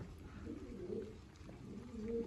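Soft, low pigeon cooing, repeated gently against a quiet background.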